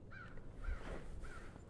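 Several crows caw outdoors, three drawn-out calls spaced evenly and moderately distant, with no talk over them.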